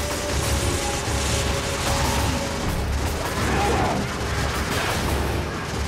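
A mounted gun in Resident Evil 5 fires in a dense, continuous rattling barrage that stays loud and steady throughout, with no pause, until it overheats.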